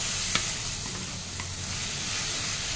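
Stir-frying a mixed vegetable spice mix with jaggery for a Bengali labra: a steady, close sizzle with scraping stirring and one sharp clink near the start, with no talking.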